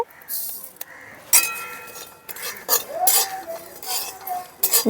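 Whole cumin drops into a wok of lightly fried bay leaf and coriander, followed by repeated metallic scraping and clinking of a spoon stirring the spices, with a soft sizzle underneath.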